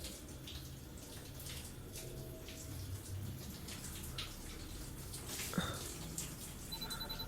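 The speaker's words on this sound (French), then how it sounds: "vous entendez la douche?" A shower running in a video game, a steady wash of falling water heard alone and fairly close, with a few brief beeps and a faint tone partway through.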